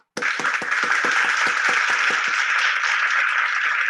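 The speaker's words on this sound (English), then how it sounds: "Let's give a big round of applause to Sarah." Applause for a speaker at an online 1 Million Cups meeting starts with a few distinct claps that quickly blend into a steady, moderately loud round of clapping lasting several seconds.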